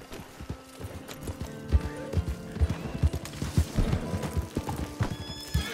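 Horse hooves clip-clop steadily in Red Dead Redemption 2, a rhythmic run of hoofbeats with a horse's whinny and faint background game ambience.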